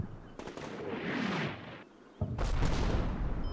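Artillery fire mission in a combat video game set around the Red Barricades, with loud, close blasts and rolling gunfire-like bursts, a brief lull, then another heavy report followed by sustained rumbling.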